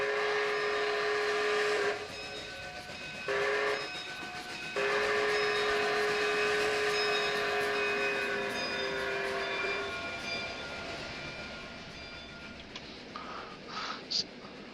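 A steam locomotive in the Trainz simulator, a CP H1a/H1b Hudson type, sounds its chime whistle in long and short blasts at a grade crossing, then rumbles past and fades, with a faint late toot.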